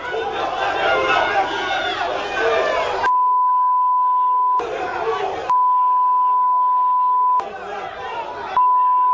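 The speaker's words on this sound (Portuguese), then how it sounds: "Muito pi, né? Só tem pi." Loud, steady censor beeps repeatedly cut in over stadium crowd noise at a Flamengo football match, with three bursts of roaring, chanting crowd sound alternating with long flat tones.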